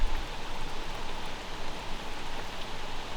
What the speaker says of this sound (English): That is crazy rain.